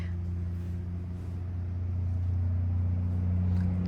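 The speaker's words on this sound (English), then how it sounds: "You hear those trucks? Those are sand trucks." Heavy sand trucks rumbling past, a steady low engine drone that swells slightly as they approach.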